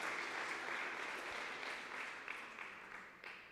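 Church congregation applauding, a sustained wash of many hands clapping at moderate distance that gradually thins and softens toward the end.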